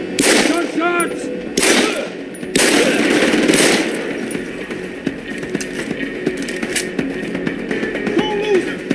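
Gunfire in Deus Ex: Human Revolution, loud and close: several sharp bursts in the first few seconds, then scattered lighter shots over a busy background, with voices calling out.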